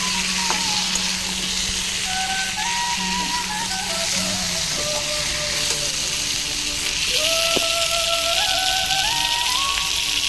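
Stingray fish frying with spices in a pan, a steady close sizzle with small bubbling crackles throughout, no voices.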